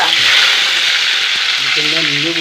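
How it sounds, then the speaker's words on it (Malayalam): Curry leaves dropped into hot oil for an onion-tamarind curry give a loud, dense, continuous sizzle and crackle close by, with a faint low hum or voice-like tone near the end. "ഇതാ കറിവേപ്പില ഇട്ട് കൊടുത്തു"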